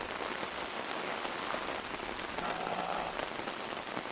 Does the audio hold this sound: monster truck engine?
no